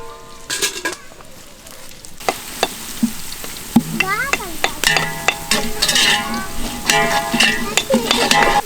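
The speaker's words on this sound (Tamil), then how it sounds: "வெங்காயம் நல்லா பொன்னிறமாக வதங்கிருச்சு." Onions fry in a pan for a chicken biryani cooked outdoors, with a steady sizzle under repeated scraping stirs and clinks of the utensil against the metal, some tonal pings and background noise throughout.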